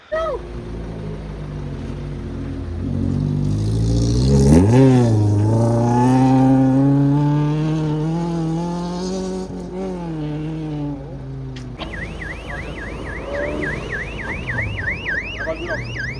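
Race motorcycles at a bike race rev loudly nearby, their engines climbing in rising, wavering pitch before dropping off, followed by a fast warbling electronic tone.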